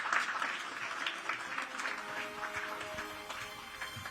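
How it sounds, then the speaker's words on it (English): An audience applauds at an award ceremony for a living legend award, a steady wash of clapping hands at moderate, somewhat distant level throughout. "Can we hear a huge round of applause for the award for the living legend?"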